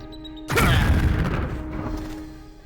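A grenade blast in the video game Jagged Alliance 2 hits suddenly after a quiet moment as one loud, close boom, then fades slowly through a long rumbling tail.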